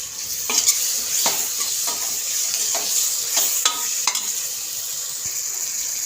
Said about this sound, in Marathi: त्यानंतर त्यामध्ये एक चम्मच गरम मसाला तो छान मिक्स कर घेऊया